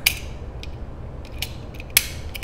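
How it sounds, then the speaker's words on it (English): A worn ratcheting hand tool that fails to catch its teeth clicks and snaps in scattered, uneven bursts, with a few sharp louder clicks standing out against quiet background noise. "you would just pull this and it would ratchet shut"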